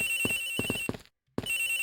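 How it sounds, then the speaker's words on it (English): A telephone rings in the Ace Attorney Investigations video game, two electronic ringtone bursts split by a brief silence, clear and close with no talking over it. "The ringing is coming from somewhere around here."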